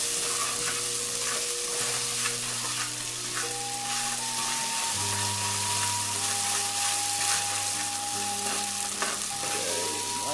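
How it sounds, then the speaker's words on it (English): Chopped ginger sautéing in a hot pan for pork sinigang, a steady close sizzle and frying crackle with occasional stirring, while a sustained tonal hum runs underneath. "add our chopped ginger. Saute that until the flavor of the aroma starts coming out some"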